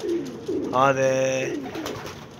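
Iraqi tar pigeon, an adult male, giving a single close cooing call with a rising, drawn-out tone, amid quiet background sounds.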